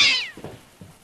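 A person imitating a cat, giving one loud, high meow that slides downward, followed by a couple of faint low vocal murmurs.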